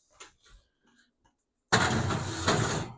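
A cake pan for a vegan pineapple upside-down cake slides into a home oven, with a few soft clunks and rattles followed by a loud, close rushing sound from the open oven that runs steadily to the end.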